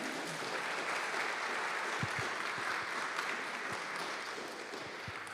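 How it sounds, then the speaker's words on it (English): An audience at a statue presentation gives a round of applause, a continuous soft patter of many hands heard from a distance that holds steady and then gently tapers off. "Let's give her a round of applause."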